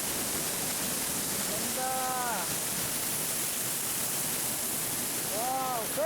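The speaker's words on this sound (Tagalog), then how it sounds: "Ito na yung falls!" Storseter waterfall in Geiranger roars as a constant broadband rush close by, with brief voices calling out over the steady pour.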